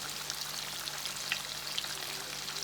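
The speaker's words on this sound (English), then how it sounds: "You hear that sizzle?" Catfish nuggets sizzle steadily in hot oil in a skillet, a dense crackling hiss with occasional sharper pops, close and continuous.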